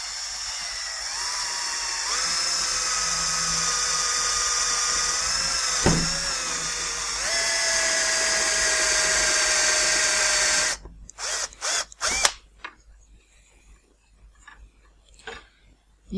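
A power drill whines steadily at high speed for about ten seconds drilling a U-shaped metal profile through its double wall, pitch shifting slightly, then stops, followed by scattered clicks and handling knocks.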